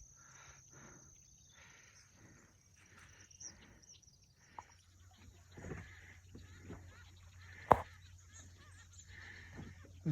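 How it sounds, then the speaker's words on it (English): Birds calling over a calm, glassy lake in the morning on the Missouri River, scattered honking and chirping calls from several birds at moderate distance, with a steady insect-like hum underneath and no talk. "The birds here are giving us a shout out and best wishes."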